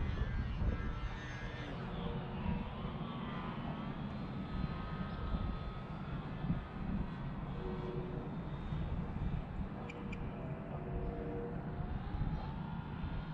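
FMS Pitts 1400mm radio-controlled airplane on a slow, low approach, a faint steady motor drone with gentle pitch shifts under outdoor wind noise.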